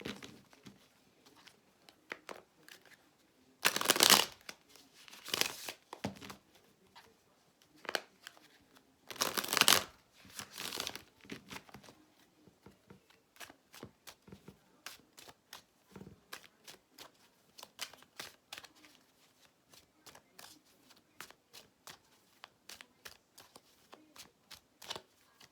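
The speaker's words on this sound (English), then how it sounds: "I'm going to go ahead and shuffle." Gilded Tarot cards are shuffled over and over, with two louder riffles early on followed by a long run of quick, soft flicks and taps.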